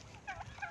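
Domestic tom turkeys give a brief burst of gobbling, a couple of warbling calls at moderate distance over faint background noise.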